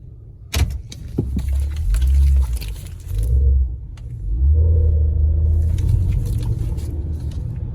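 A Honda (Pilot, Element, CR-V or HR-V type) making a tight low-speed turn with old, unchanged fluid, giving a loud low rumbling drone and groan that swells and fades over several seconds, with a sharp knock near the start.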